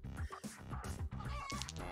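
Cartoonish chicken clucks from the video game Luck be a Landlord, loud rhythmic bursts repeating in a quick, steady pattern with no voices over them.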